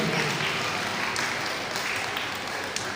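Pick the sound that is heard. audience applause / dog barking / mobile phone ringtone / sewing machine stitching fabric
audience applause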